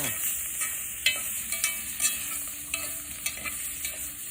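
Field rat stir-fried with red holy basil sizzles in a hot pan as a utensil scrapes and stirs in irregular clinks, close and continuous with no talk.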